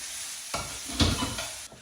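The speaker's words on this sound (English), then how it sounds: "caramelise them onions" Onions caramelising in a pan, with a steady close sizzle and hiss, a few stirring scrapes rising briefly through it, and no voices.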